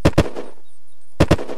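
Weapon test-fired in the video game Unturned: two sharp, loud gunshots in quick succession, a pause, then another close pair of shots.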